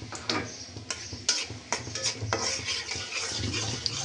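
Chopped onion and garlic go into a pan of frying dried red chillies, followed by close clattering stirs and scrapes of a spatula over a soft sizzle, several sharp knocks spaced through the moment.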